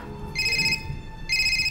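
A telephone rings twice in quick succession, each ring a bright electronic trill, with a brief gap between them, heard alone and fairly close.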